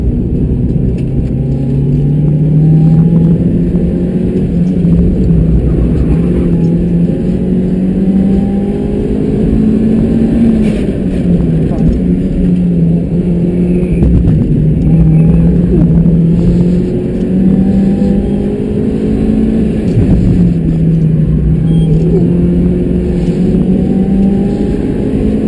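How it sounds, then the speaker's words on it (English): Stock 1.8-litre car engine of about 110 horsepower revving repeatedly, its pitch rising and falling in steady cycles, loud and close with no voices. "It's like stock engine, like 110 horsepower."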